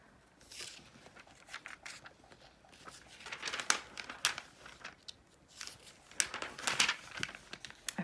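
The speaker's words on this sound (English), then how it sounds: "I've definitely cut these before, but I like them, so I'm going to cut them again" Scissors snipping through glossy magazine pages, with crisp irregular cuts and paper crinkling close by, quiet between strokes and no talking.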